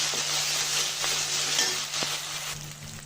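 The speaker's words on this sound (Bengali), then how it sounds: "আদা রসুন জিরাটা ভালো করে ভেজে নিব।" A paste of ginger, garlic and cumin frying in oil, giving a steady close sizzle broken by a few soft taps and scrapes of a spoon.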